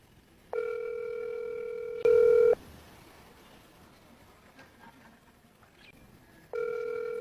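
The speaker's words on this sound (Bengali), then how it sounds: "রিং হচ্ছে।" An unanswered outgoing phone call ringing back, with two long electronic ring tones separated by a pause and a third ring starting, clear and steady against quiet room noise, with no talk.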